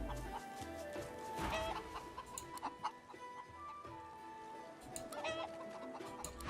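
A chicken clucks in the fantasy role-playing game Divinity: Original Sin 2, a series of short, quiet clucks and squawks spaced irregularly over soft game ambience, with no talk.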